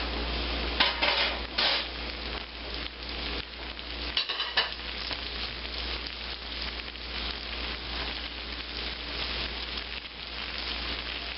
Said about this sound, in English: take those cutlets and start cooking them. And I want to cook these over about a medium-high flame.